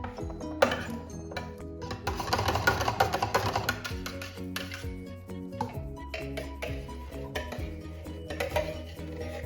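A spoon stirs mango lassi in a container, giving repeated clinks and scraping taps against the sides with a busy, uneven rhythm, close and moderately loud with no talking.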